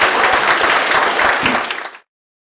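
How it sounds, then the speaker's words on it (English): Loud, dense audience applause for the speakers at the grand final of a European debating championship, steady clapping that cuts off abruptly after about two seconds. "Let's have another round of applause and congratulate all the speakers"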